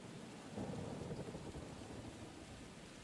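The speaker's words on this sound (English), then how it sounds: "Oh, and there's lightning, and birds are taking off out of the trees." Thunderstorm with lightning in the post-apocalyptic colony city-builder New Cycle: a steady wash of rain with a low rumble of thunder swelling early on and staying fairly constant throughout.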